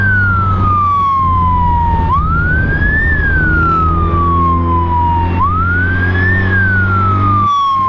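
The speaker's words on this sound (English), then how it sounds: "Let's get the sirens on." Wailing police siren on a BMW R 1200 RT-P police motorcycle, rising and falling in slow sweeps over a steady engine hum, loud and close throughout.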